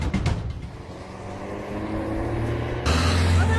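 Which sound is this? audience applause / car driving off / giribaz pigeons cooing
car driving off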